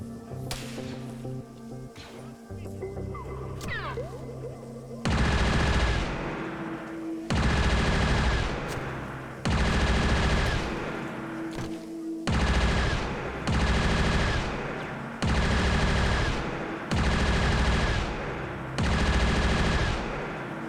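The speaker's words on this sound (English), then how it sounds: "This is such a nasty gun." Sustained video game machine-gun fire in long rapid bursts, each lasting a second or two with short pauses between, loud and close over a steady background hum.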